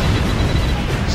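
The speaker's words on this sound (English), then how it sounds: "Bombs away!" Bombs dropped from a jet fighter exploding in the aerial combat game Ace Combat Infinity during an online co-op mission over Moscow, a brief loud rumbling blast close up with a dense low roar.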